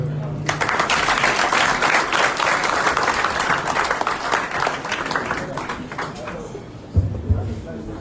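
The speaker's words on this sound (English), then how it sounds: "Another round of applause for the newest Inspector General of Police, Federal Republic of Nigeria" Audience applause for the newly installed Nigerian Inspector General of Police at a handover ceremony, dense sustained clapping from a large crowd that fades slightly before a voice briefly cuts in near the end.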